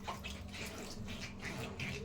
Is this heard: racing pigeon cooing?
no